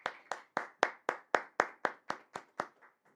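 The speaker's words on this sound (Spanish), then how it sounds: "Dale una ofrenda de palmas" A church congregation claps in a steady, even rhythm, about a dozen sharp hand claps at a regular pace and fairly loud, fading slightly toward the end with no voices over them.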